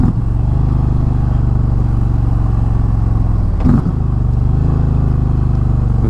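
An Indian Pursuit Dark Horse touring motorcycle engine runs loud and close with a steady low throb, then dips briefly as though shifting, and carries on evenly.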